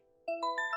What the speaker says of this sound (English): Suddenly my phone jingles.